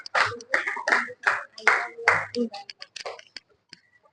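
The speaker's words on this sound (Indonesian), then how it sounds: "Tepuk tangan untuk kelompok 4." Classroom applause for a student group after their presentation on the Indonesian proclamation, a few seconds of scattered claps from a small class, loudest at first and thinning to isolated claps at the end, with speech mixed in.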